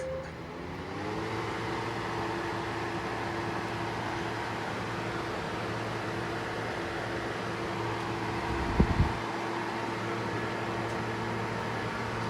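A Hercules cordless jobsite fan runs with a steady, even whoosh and low motor hum close by, holding constant throughout with a brief knock near the end.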